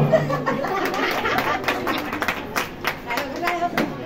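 Audience applause after a prize is announced at a 2024 Jayanti festival gathering, steady clapping mixed with scattered chuckles and crowd murmur, moderately loud throughout.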